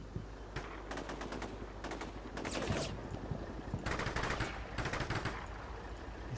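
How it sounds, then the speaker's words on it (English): Machine guns fire in Combat Mission: Shock Force 2, sounding as several short rapid bursts separated by brief gaps, sharp and fairly close over a low constant rumble. "This guy's just blind firing."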